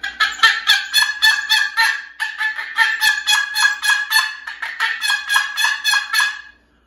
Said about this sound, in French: j'avais une boîte, puis je me suis mis à faire des yelps